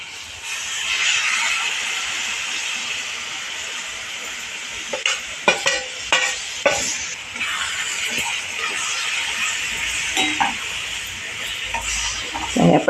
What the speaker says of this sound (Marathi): हे आपण छानपैकी असं परतून शिजवून घ्यायचं